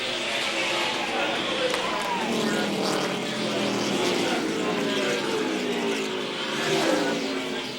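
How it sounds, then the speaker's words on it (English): A 2008 ARCA Series race car, driven by the season's champion, powers out of turn 4 at the Hantz Group 200, a steady loud engine roar with crowd and track ambience throughout, under continuous commentary. "Justin Allgaier working his way through 3 and 4. Here he comes out of 4"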